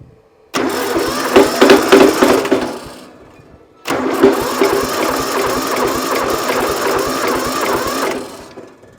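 Diesel tractor engine cranking and catching twice, each start running as a loud, rapid, knocking chug that then settles and stops, with a brief pause between runs.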